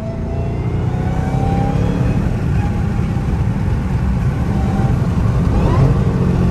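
A 2022 Dodge Hellcat Redeye with a supercharger, on bald tires, roars loudly and steadily as it pulls hard in second gear, a deep engine drone with a faint rising whine running over it, no voices.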